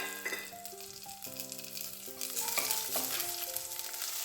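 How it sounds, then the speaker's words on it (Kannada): Garlic and dried red chillies fry in hot oil for a colocasia stem stir fry, giving a steady close sizzle with light stirring scrapes and no voices. "ಬೆಳ್ಳುಳ್ಳಿ ಸ್ವಲ್ಪ ಕೆಂಪಗಾಗುವಾಗ ಇಲ್ಲಿ ಒಣಮೆಣಸನ್ನು ಹಾಕ್ತಾ ಇದ್ದೇನೆ"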